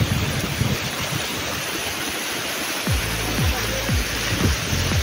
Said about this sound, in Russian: Дождик начинается, капает.